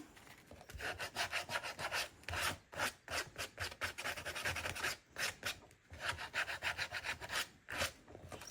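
A painted wooden base is distressed by hand to expose raw wood, giving quick rhythmic scraping and rubbing strokes in bursts, close and fairly quiet, with brief pauses between runs.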